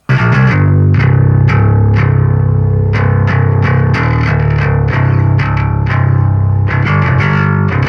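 A heavily distorted bass guitar, played through an amp simulator for a metal tone, plays a steady run of punchy, rhythmic notes, thick and gritty, filling the whole stretch without any voices.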